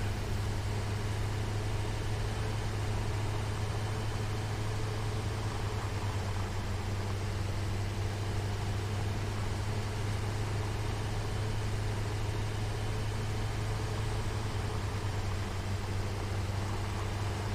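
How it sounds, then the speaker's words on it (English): Tractor engine in the video game Satisfactory, a steady loud drone with a strong low hum and broadband rumble that runs unbroken from start to finish, heard alone. "I forgot how loud the tractor is."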